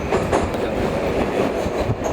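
A Tashkent metro train runs through the underground, a loud continuous rumble with rhythmic clickety-clack of wheels on rails and faint squeal, no talk.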